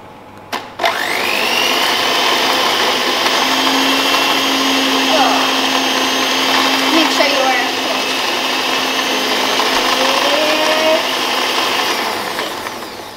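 An electric whisk runs steadily through lemon drizzle cake batter, a loud, sustained motor whir heard up close that starts after a brief click, holds for about twelve seconds and fades slightly at the end.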